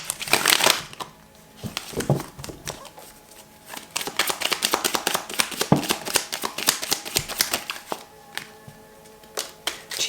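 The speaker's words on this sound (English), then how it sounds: "So let me pull a couple more cards on that." Tarot cards being shuffled and pulled by hand, a run of crisp papery riffles and slaps, close and fairly loud, coming in bursts with short pauses and no talking.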